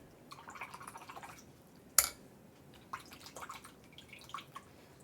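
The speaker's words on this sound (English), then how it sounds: "So I'm gonna wash up my brush." A paintbrush is rinsed in water during a classroom painting session, with soft splashing and swishing, a sharp tap against the container, then more intermittent light dabbing and drips, all quiet and close.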